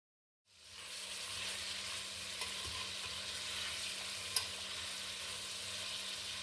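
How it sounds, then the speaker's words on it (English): Butter sizzles steadily in a pan as pieces of pork neck are laid in, a continuous close frying hiss with a couple of small clicks and pops along the way. "When the butter starts to sizzle, that's when my mom starts putting the meat inside of the pan."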